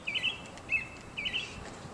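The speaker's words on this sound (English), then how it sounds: "You hear the birds?" Three short bursts of high, thin bird chirps ring out in a quiet outdoor setting, fairly faint and spaced about half a second apart.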